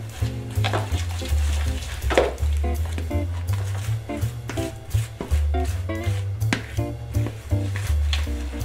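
Thick Nutella cookie dough being worked with a fork in a bowl, giving a steady, close scraping and squelching with light clinks of metal on the bowl throughout.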